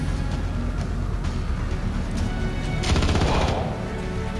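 Burst-fire gunshots from the video game Star Traders: Frontiers rattle in quick repeated volleys over a busy game soundscape, loud and close, with no talking.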